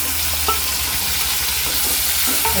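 Chopped tomatoes go into a hot pan for tomato chutney, giving a steady low sizzle with light stirring scrapes, close and continuous with no talking.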